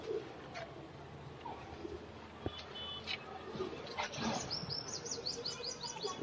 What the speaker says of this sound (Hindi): ये देखिए कबूतर है,